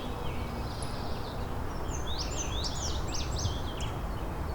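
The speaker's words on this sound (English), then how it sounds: "Here's an indigo bunting and a scarlet tanager." Indigo bunting and scarlet tanager singing in a forest, their high, patterned phrases distant and faint over a steady broadband background hiss, with several song bursts clustered in the second half.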